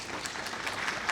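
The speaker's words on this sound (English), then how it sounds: "Give him a huge round of applause, everyone." Applause from a conference audience at a mushroom summit welcoming a keynote speaker, soft, steady clapping from a crowd, heard briefly and somewhat distant.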